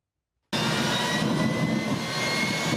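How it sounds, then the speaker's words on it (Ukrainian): Antonov An-26 turboprop engines starting up for a test run after overhaul: after a half-second of silence, a loud, steady roaring whine sets in and holds evenly, close by, with no talk. "Це перший пробний запуск двигунів після капітального ремонту."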